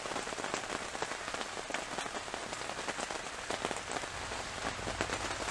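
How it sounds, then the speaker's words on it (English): Rain falls steadily outside a fishing bivvy at a lake, drumming as a constant, close hiss with many small drop impacts on the shelter and no voices. "Raining outside"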